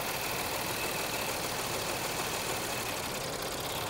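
Idle of a supercharged 3.0L 2013 Porsche Cayenne S hybrid running with cylinder 5 disconnected, heard as a hissy, uneven, slightly rough hum held at a constant level with no speech.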